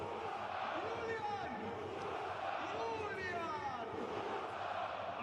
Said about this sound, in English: The crowd chant his name for the 4th time.